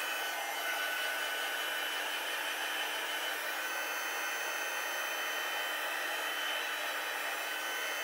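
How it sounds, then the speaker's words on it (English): Heat embossing tool blowing hot air over a stamped greeting card: a steady, close, constant fan roar and hiss that runs unbroken the whole time. "we're going to take our heat tool, heat it up, and emboss"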